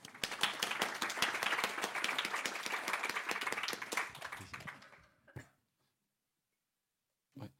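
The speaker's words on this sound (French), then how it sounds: "On peut vous applaudir." A small lecture audience claps in a brisk, distinct patter for about five seconds before it stops. Quiet follows, broken by a cough and a later throat-clearing sound.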